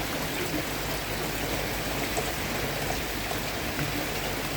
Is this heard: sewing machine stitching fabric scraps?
no